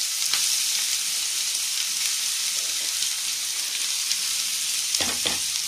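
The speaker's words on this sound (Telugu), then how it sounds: "ఇంకా కాకరకాయలు వేగుతున్నాయి" Bitter gourd pieces fry in oil in a pan, a steady close sizzle running throughout with a few brief stirring scrapes near the end.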